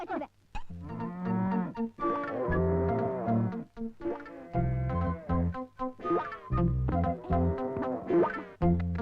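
A cow moos repeatedly in long, loud, drawn-out calls with brief gaps, close by and continuous.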